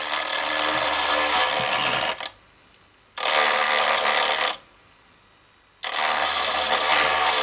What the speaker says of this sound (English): So I'm using this burring tool inside my Proxon, and that gives me a nice smooth outer surface.